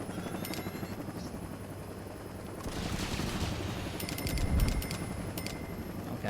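Missile launches and explosions in the video game Saints Row, a steady roar of rapid bursts and booms with a stronger blast midway, set over a constant rumbling engine-like drone.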